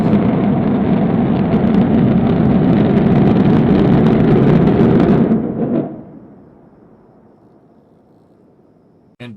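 A SpaceX Raptor rocket engine roars loud and broadband during a test firing. The roar holds steady, then cuts off abruptly at shutdown into a fading rumble, followed by silence and a brief sharp sound at the very end.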